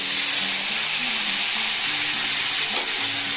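Half a cup of water hitting frying pumpkin and bitter gourd in a pan sets off a loud, close, continuous hissing sizzle that fills the whole stretch, with a faint low hum of background work noise beneath.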